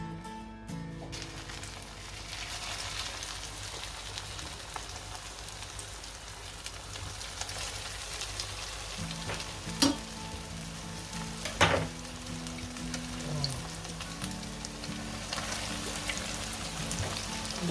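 A potato galette frying at medium heat in oil in a small preheated pan, a faint, continuous crackling sizzle with a couple of brief clinks, no voices.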